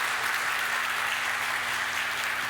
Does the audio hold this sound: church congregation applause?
yes